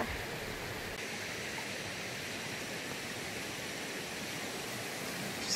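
Dismal Falls on the Appalachian Trail in Virginia gives a steady, unbroken rush of falling water, a soft broadband roar heard from some distance with no voices.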